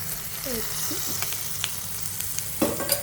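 Egg fries in a pan with a steady close sizzle and a few light scrapes and clinks of stirring, no voices over it.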